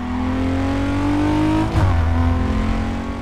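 Engine and exhaust of a car in Need for Speed Carbon, a loud sustained revving drone with rising pitch, a brief shift or dip midway, then the engine pulling hard again.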